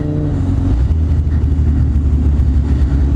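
Dense road traffic rumbles around a motorcycle rider during the evening commute home, a loud, steady wash of engine drone and low road noise with no pauses and no talking.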